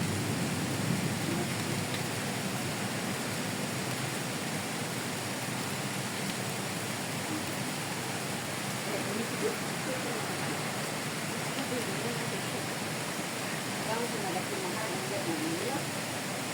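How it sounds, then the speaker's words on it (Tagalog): Steady rain pours in a botanical garden as a dense, even wash of noise that stays constant from start to finish, with no distinct thunderclap standing out. "umulan na, andyan ang kulog"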